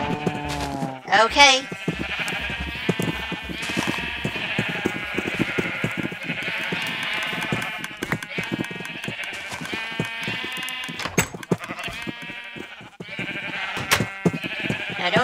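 Minecraft sheep bleat repeatedly in a blocky video game world, short nasal cries overlapping one another close by, while a person talks over them.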